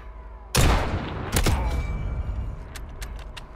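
A sharp burst of Call of Duty gunfire erupts close and loud, followed by a second volley and a few fainter clicks and rattles as it dies away.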